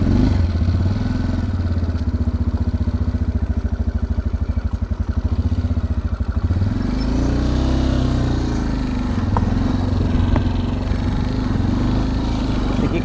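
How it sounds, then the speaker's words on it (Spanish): An Italika V200 motorcycle climbs a steep dirt road uphill, its small engine droning loud and close with a rapid rhythmic chug that steadies and shifts pitch partway through, with rattling clatter over the rough track. "así que me la voy a rifar en la moto hasta allá"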